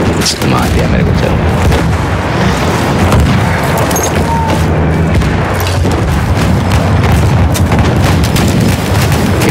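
An artillery tank fires in a Battlefield match, with heavy booms and explosions piling into a constant loud battle roar, mixed with scattered gunfire, while players talk over the action.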